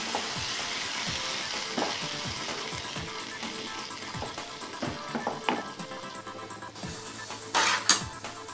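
Masoor lentils with cumin and chili powder frying in a pan as they are stirred, a close sizzle punctuated by repeated spoon scrapes and taps, and a louder hissing burst near the end.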